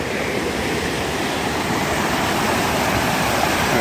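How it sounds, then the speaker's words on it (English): Water rushes continuously over small falls in a little stream beneath a wooden bridge on a spring mountain trail, a loud, steady close-up roar with no voices. "here's a nice little stream, nice little wooden bridge,"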